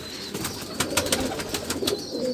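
Golden pigeons coo close by in a series of soft, throaty pulses, with a few sharper clicks and flutters mixed in and no speech.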